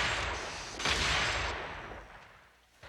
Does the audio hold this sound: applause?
no